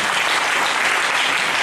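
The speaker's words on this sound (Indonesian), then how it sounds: "Berikan lagi tepuk tangan bagi Tuhan Yesus." Dense, steady applause from a congregation at a church faith seminar in Duri, Riau, a continuous loud wash of clapping filling the whole moment with no voices over it.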